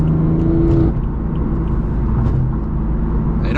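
A BMW F82 M4 engine drones while driving with the windows down, a loud, close, steady rumble with a tone shift early on and road noise underneath.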